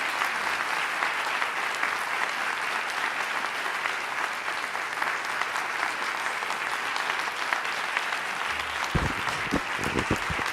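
An audience applauds warmly at Dominican University as Secretary Alexis Herman is welcomed to speak, dense sustained clapping throughout, with a few louder claps near the end.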